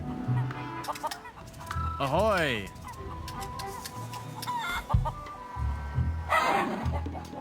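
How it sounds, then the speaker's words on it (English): A feral chicken in The Curse of Monkey Island video game clucks and squawks in short bursts, including one rising crowing squeal, amid game sounds and a brief spoken voice. "Oh, look, a chicken. A feral chicken."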